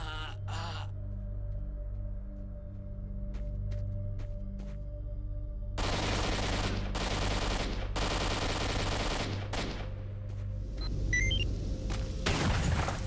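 Gunfire in the video game S.T.A.L.K.E.R.: Shadow of Chernobyl, scattered sharp single shots giving way to dense bursts of automatic fire, loud and close, over a low droning background.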